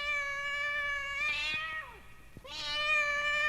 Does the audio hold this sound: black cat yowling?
yes